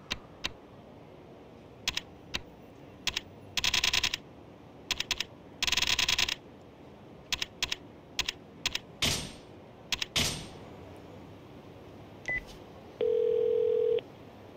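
Phone dialing in the video game Yakuza Kiwami 2: a string of short beeps and clicks as digits are entered, some longer tone bursts, then a steady held ringing tone near the end, clear with no talking.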